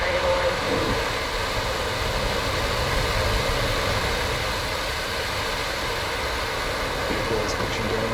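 SpaceX Falcon 9 rocket engines roaring at liftoff on the CRS-20 mission to the ISS, a dense, loud, continuous rumbling roar that holds steady from start to end, heard from a distance.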